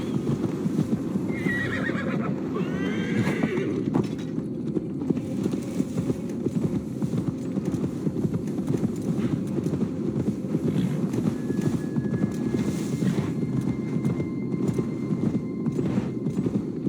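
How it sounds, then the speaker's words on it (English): In Assassin's Creed Valhalla, a horse whinnies early on amid a constant, steady clip-clop of hooves, with a faint wind-like background throughout. "Now to deliver Magni his horse."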